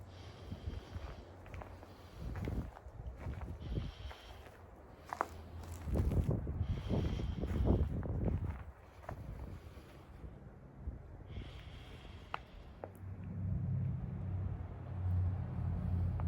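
Strong outdoor wind in falling snow rumbles and gusts against the microphone, with scattered crunching footsteps and handling noises, fairly close and uneven in loudness.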